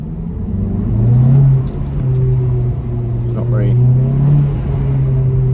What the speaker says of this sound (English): That was me just kind of like revving it up in first, giving it some decent throttle.